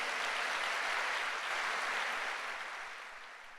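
Broad, steady applause from a church congregation at an El Shaddai church congress, dense and sustained before thinning toward the end, with no voices over it.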